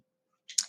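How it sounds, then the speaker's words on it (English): A pair of quick, close computer mouse clicks, a double click used to open a spreadsheet file, sounding crisp and isolated against near silence. "you're just going to double click it and then click Next"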